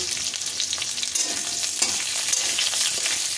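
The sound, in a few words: onions frying in pan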